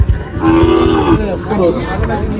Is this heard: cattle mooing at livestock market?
yes